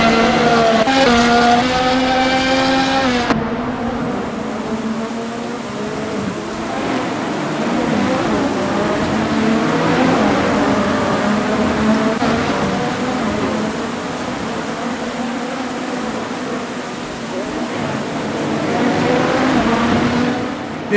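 Formula 1 cars racing at the 2024 Bahrain Grand Prix, a loud continuous engine roar with rising and falling pitch as cars pass, an early high whining tone cutting off after a few seconds, sustained throughout.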